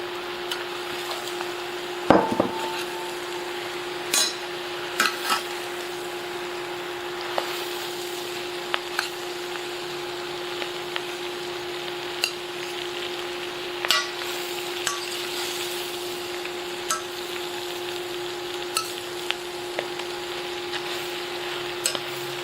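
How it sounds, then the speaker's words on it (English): Brussels sprouts and sausage sizzling in a soup pot, a steady low hiss broken by intermittent wooden spoon knocks and scrapes as the mixture is stirred. "now we're going to go ahead and add the Brussels sprouts"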